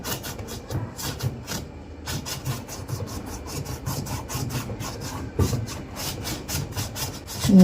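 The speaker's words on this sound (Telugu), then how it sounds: "బ్రష్ తీసుకొని మనం నార్మల్గా ఇలా రుద్దడమే" A brush scrubs the rubber door gasket of a front-load washing machine in close, rhythmic back-and-forth strokes of steady loudness, with a short pause early on and no voices.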